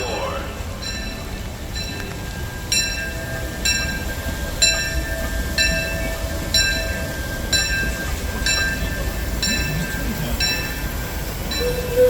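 The Disneyland Railroad train pulls into its station with regular, rhythmic clanks and a faint high tone over a low rumble. A station announcement plays over the train noise.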